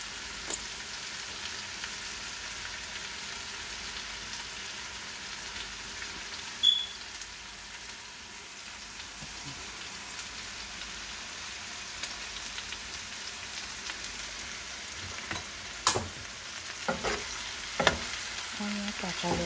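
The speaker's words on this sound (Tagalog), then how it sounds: "Hintay lang natin simmer ng konti." Beef bistek simmers in a pan with a steady, close sizzle and bubbling hiss throughout, and a few sharper utensil knocks and scrapes near the end; no one speaks.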